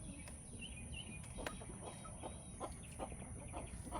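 Several chickens cluck softly in the background of a coop fitted with a rollaway nesting box, with short scattered calls over a steady hiss and no talking.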